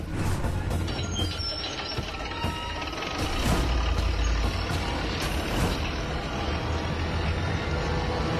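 A bulldozer engine runs steadily close by, a heavy low rumble with mechanical clatter throughout and a few brief hissing bursts like air releases, with no talk.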